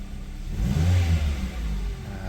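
A Perodua Bezza engine revs briefly as the throttle is pressed, a low mid-range rise and fall lasting about two seconds, close and steady with no talking.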